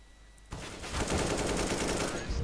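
AK rifle fire in Counter-Strike on the Mirage map, a sudden close burst of rapid automatic shots that starts after a short quiet moment and continues to the end.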